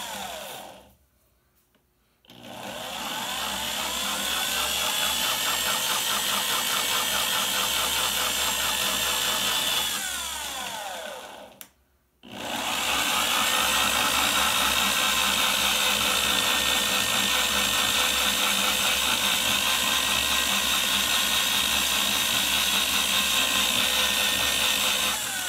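A reversible power drill used for sharpening carving and cutting tools whirs steadily at high speed, stopping briefly twice before spinning up again, loud and close with a faint grinding edge.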